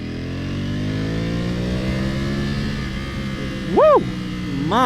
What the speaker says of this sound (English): This bike is just made for a track. God, and it sounds like it